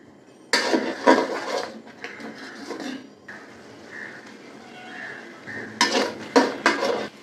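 Masala with yogurt being stirred in a pot, with loud clattering scrapes of a metal spoon against the pot in bursts at the start and end and a soft sizzle in between.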